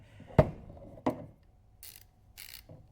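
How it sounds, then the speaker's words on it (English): A Snap-on Dual 80 ratchet fitted with an Icon Gen 2 mechanism gives two sharp close knocks followed by two short bursts of fast clicking, quiet with no talk. "We've got the icon mechanism and the snap-on ratchet, and it works."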